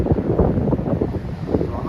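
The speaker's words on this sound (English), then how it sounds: "I know it's windy and it's getting dark." Wind gusts buffet the microphone in the woods as dusk falls, a loud, low rumbling whoosh that rises and falls unevenly over a couple of seconds.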